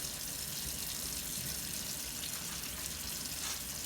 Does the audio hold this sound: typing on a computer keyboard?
no